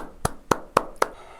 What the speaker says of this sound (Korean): 우리 이 권사님에게 큰 박수 한번